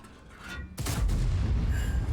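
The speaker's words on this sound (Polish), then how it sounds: "Kolejny bardzo dobrze skupiony strzał." A sudden heavy booming blast from an Object 268 version 4 tank cannon in a video game erupts and rolls on into a dense rumble, loud and close, with no speech.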